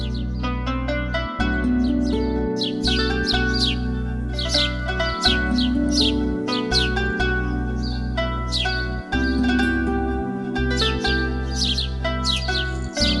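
Birds chirp and tweet steadily throughout at a trout farm, bright repeated calls layered over a constant low hum of machinery or running water.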